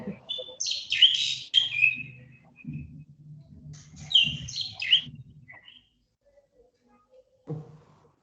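A bird chirps in the background during an online university class. It gives bright, rapid bursts of tweets in two or three clusters, fairly close, with low murmuring voices underneath and brief quiet gaps.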